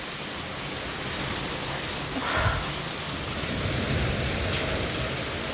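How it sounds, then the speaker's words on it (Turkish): Steady, dense rain mixed with hail pours down in Eskişehir, Turkey, in a constant wash of noise, with a brief louder swell partway through. "Birden başladı yağmur."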